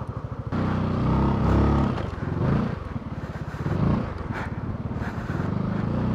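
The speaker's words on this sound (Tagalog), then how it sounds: "ikot ko lang yung motor" A Zontes 400G motorcycle engine runs close by as the bike is maneuvered and turned, its low throbbing idle swelling into several brief revs, with light clattering and scraping mixed in.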